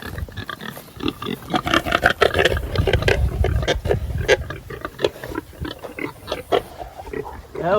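Farm pigs grunt and oink close by in a steady run of short, rough snorts and squeals, some louder than others, with a low rumble of movement underneath and no talking.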